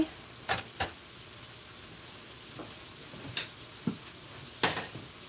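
Sliced peppers cooking in a pan, a soft steady sizzle broken by scattered knocks and clicks of utensils, close and alone.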